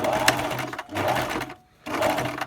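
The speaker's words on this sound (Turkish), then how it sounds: "Şuradan şu şekilde düz dikişle dikişime başlıyorum." A sewing machine runs a straight stitch along the seam of a fabric baby hat, in two steady close-up bursts of rapid whirring separated by a short pause, with no talking.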